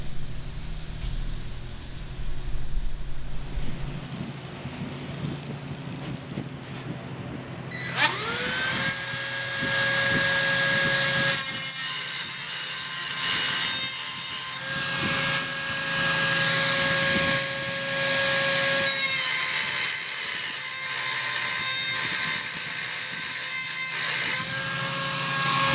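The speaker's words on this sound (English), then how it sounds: "I'm just going to go and put this in the vise, and we're going to cut this part off." A saw cuts through a steel driveshaft clamped in a vise, starting abruptly after a quiet stretch and then grinding on loudly and steadily with a high whine and rough, rhythmic texture.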